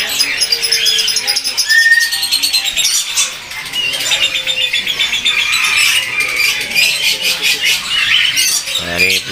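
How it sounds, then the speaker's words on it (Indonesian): A black-naped oriole sings loud, continuous whistled phrases at a bird kiosk in a market, with other caged birds chirping and squawking close by. "Nah, ini penampakan dari kepodangnya ini, teman-teman. Lagi bunyi aja ya."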